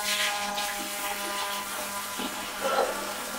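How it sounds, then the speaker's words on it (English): A loud bathroom tap runs steadily in a continuous broadband rush of water, close and unbroken, with no talking over it. "the tap is so loud."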